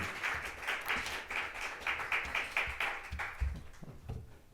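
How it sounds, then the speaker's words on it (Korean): A Korean church congregation at a Friday evening worship service gives a short round of light, scattered clapping for teachers who just sang a special song, soft and fairly sparse, thinning out toward the end. "우리 선생님들께 다시 한번 박수를 드릴까요?"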